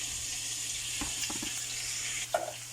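Garlic and onion go into a hot pan for sautéing in a home kitchen while cooking palabok, making a steady hissing sizzle with a few soft thuds and scrapes partway through.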